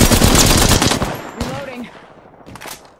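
Loud rapid automatic gunfire in the Apex Legends battle royale video game, a dense close burst in the first second, then scattered shots and a trailing echo fading out, with a voice briefly speaking.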